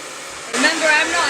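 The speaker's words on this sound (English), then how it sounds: "I'm just going to pop this hairdryer on." A hair dryer switches on after a brief quiet rumble and then blows with a loud, steady, breathy rush of air close by.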